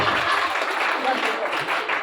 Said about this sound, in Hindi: तालियां बजाओ भाई, देखो तालियों से हौसला बढ़ता है।